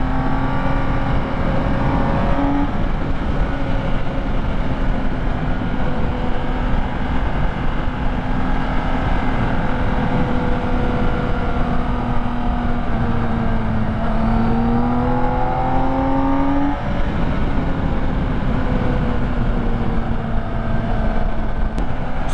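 Engine of a 2022 BMW K1600 touring motorcycle, a smooth, steady drone heard while riding, with gentle pitch rises as it revs and shifts, continuous and close, with no talk.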